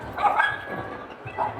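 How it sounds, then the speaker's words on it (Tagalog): A dog barks a few times at a distance in a mall pet expo, yappy and intermittent, with faint background bustle and a brief murmur of voices. "May aso doon."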